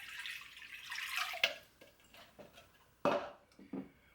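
Warm tap water is poured into a mixing bowl for baguette dough, heard as a few short, light splashes and drips at close range, with no talk.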